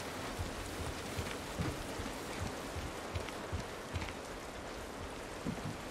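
Steady rain falls in the video game The Last of Us Part 1, a dense continuous hiss of drops on surfaces with faint low rumbles beneath, no voices present.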